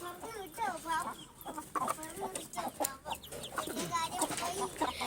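Fancy white chickens with feathered legs, kept with hens and a rooster, cluck and call repeatedly at close range in overlapping bursts, with a few sharper squawks scattered among them.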